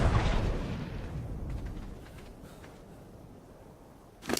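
A cannon fires in Ark: Survival Evolved, one loud close boom at the start that rolls off into a fading rumble, with a second sharp burst right at the end.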